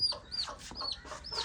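Hen clucking in a village yard: four short, close, rising clucks at an even pace with quiet gaps between them.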